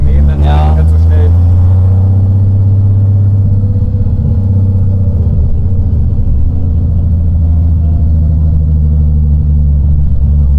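A VW Golf engine on a dyno in second gear, a loud, deep steady drone with rising and falling revs, heard close up while a person talks briefly at the start.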